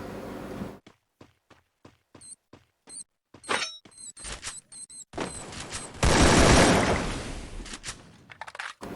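Free Fire video game battle: a fast series of sharp gunshots, then a loud booming grenade explosion with a long rumbling, crackling tail, all close and free of talk.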